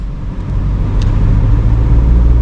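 A car engine drones loud and close from inside the cabin while the driver shifts up into third gear, a steady low rumble that swells slightly as the gear engages, with no talking.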